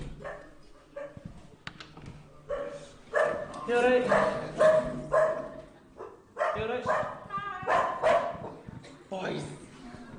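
A British Bulldog gives excited yips, whimpers and short barks while greeting its owner, who speaks to it warmly over the noise.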